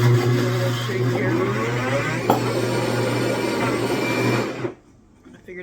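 Countertop blender with suction-cup feet whirring steadily and loudly as it mixes Brazilian cheese roll batter, a continuous motor drone for almost five seconds before it cuts off abruptly into near quiet.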